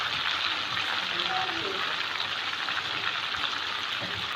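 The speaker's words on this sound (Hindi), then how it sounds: "और इसे थोड़ी देर हम ऑयल में फ्राई कर लेंगे" Chicken pieces fry in hot oil, giving a steady, dense sizzle that stays even throughout, with faint kitchen clatter underneath.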